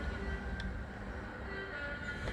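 Steady low rumble of a model train locomotive's engine sound, with a faint whistle-like tone and a brief click near the end, no voices.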